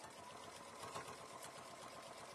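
Sewing machine stitching fabric lining for a mug bag, a steady faint mechanical whir with fast even rhythmic clatter running throughout.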